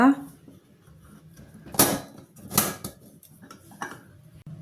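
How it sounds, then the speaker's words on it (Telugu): A pressure cooker lid is lifted off after the pressure has gone, with boiled chickpeas and tomatoes inside for chole curry: two loud, close metallic clanks about a second apart, then a lighter clatter, over a low kitchen murmur. "ఇప్పుడు ప్రెషర్ పోయింది, కుక్కర్లో మూత తీస్తా"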